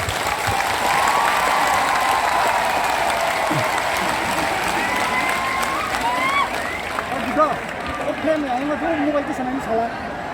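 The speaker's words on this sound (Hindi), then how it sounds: "सबसे बड़ा ताली आपको होना चाहिए।" Sustained applause and cheering from a large audience at a live stage event, filling the whole stretch steadily, with whistles and crowd voices mixed through the clapping.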